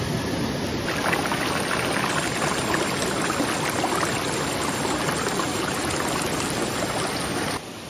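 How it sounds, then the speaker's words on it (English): A continuous rushing splash of river water pours out of a bucket for several seconds while gold panning in Alaska, loud and close, then cuts off abruptly near the end. "Okay, I dumped the water out, but don't dump out any of the rocks."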